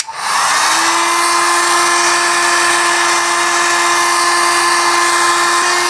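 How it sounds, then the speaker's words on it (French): A heat gun blows steadily at close range, heating the gearbox casing of a 1954 Panhard Junior with a continuous loud whooshing hiss and a thin whine held throughout. "je vais chauffer directement autour des logements ici avec le décapeur thermique"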